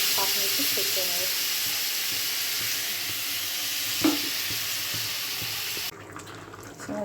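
Mustard and poppy seed hilsa curry sizzles and bubbles in a pan, a steady close frying hiss with a sharp clink near the middle before the sound drops away at the end.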